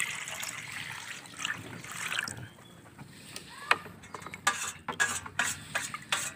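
A scoop of water poured into sugarcane molasses in a container and stirred to dissolve, a trickling, splashing liquid sound at moderate distance followed by several sharper sloshing stirs.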